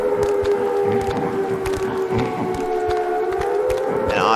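Sirens wail in the Fallout 4 Whispering Hills horror mod, a loud steady droning tone that slowly dips and rises, over rumbling game ambience.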